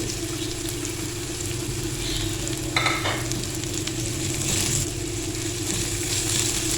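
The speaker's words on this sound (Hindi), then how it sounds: "अब इनको थोड़ा सा फ्राई करेंगे ताकि प्याज का कच्चापन ख़त्म हो जाए" Finely chopped onion and green chillies frying in a pan, a steady close sizzle with occasional stirring scrapes, no talk.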